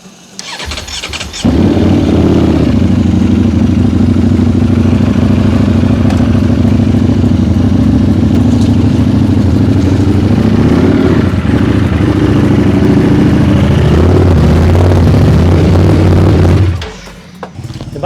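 A Ducati motorcycle engine turns over and idles loudly with a deep, steady throb for most of the clip, then cuts off near the end.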